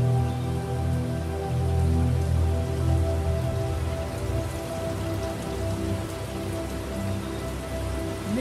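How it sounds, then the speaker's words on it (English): Heavy rain pours steadily through a Dominica forest near the Cold Soufriere volcanic site, a dense, constant hiss of drops striking leaves and ground, loud and close with no voices. "So it's beginning to rain heavily"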